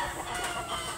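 Fighting chickens and roosters clucking in a coop, a dense, noisy mix of bird calls with a brief louder crow-like cry.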